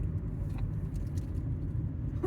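Volvo 740 car driving with a newly replaced tie rod, a steady low road rumble and engine drone heard from inside the cabin throughout, fairly quiet, with no talk.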